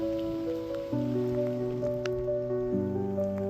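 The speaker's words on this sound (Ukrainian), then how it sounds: "трошки мокроти, то нічого, що дощ спадає" Steady rain falls in a continuous patter with scattered drips, while sustained tonal hum sits underneath; no one speaks.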